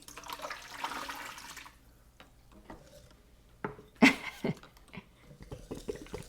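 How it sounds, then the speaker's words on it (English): Several quarts of water pour into a pot of turkey brine in a short gushing burst, followed by quiet moments and a few knocks and clanks of the pot. "we're going to pour 3 or 4 more quarts of water into this pot"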